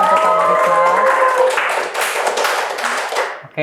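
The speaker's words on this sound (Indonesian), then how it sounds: "boleh dong teman-teman tepuk tangan untuk Kak Marisa" Audience applause at a student talk event, a burst of close hand clapping from a small crowd over a held tone, fading out near the end.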